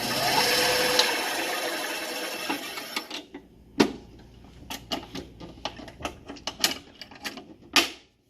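A new bandsaw cuts along a line into a curve, running with a steady whir for about three seconds before switching to a series of sharp, irregular clicks and knocks up close.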